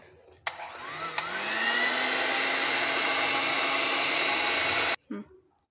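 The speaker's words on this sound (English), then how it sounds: "Then beat the milk cream." An electric hand mixer whipping milk cream for a brownie ice cream dessert, starting with a couple of clicks, then a steady loud whirring motor that stops abruptly near the end.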